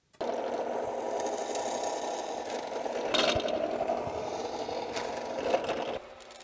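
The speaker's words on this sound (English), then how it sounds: "I'm going to drill the holes next because that way I have a nice piece of metal to hold on to" A power drill bores holes through small metal mast tangs for a wooden sailboat, a steady whirring grind with a brief louder bite partway through before the motor spins down.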